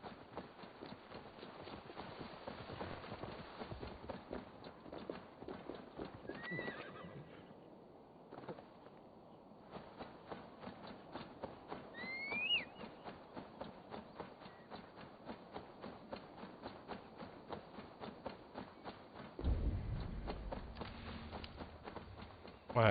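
A horse's hooves clip-clop in a steady rhythm in the video game Assassin's Creed Valhalla, continuous and fairly close, with brief bird-like calls and a few other game sounds over it.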